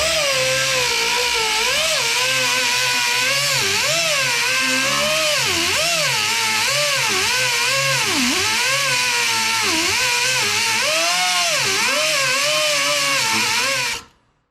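A power cutting tool grinding into a seized nut on a 2011 Hyundai Santa Fe suspension, a loud, close, continuous whine whose pitch wavers up and down under load before stopping abruptly.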